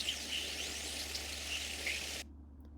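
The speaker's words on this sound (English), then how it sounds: "here are some more mid-frequency EMIC waves" Mid-frequency EMIC plasma waves recorded by a spacecraft and converted to audio play as faint rising, chirpy whistling tones over a dense steady hiss with spacecraft background noise, cutting off abruptly near the end.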